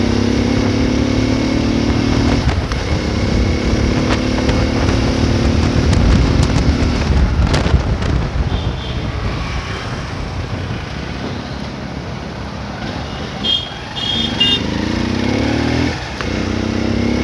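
A motorcycle rides along a road on a trip to campus, its engine droning loudly and steadily with rising and falling revs as gears shift, over continuous wind noise.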